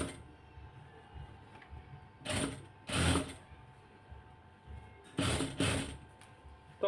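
A sewing machine stitches piping onto the neck of a kameez in several short, close bursts of rapid whirring, with quiet pauses between them.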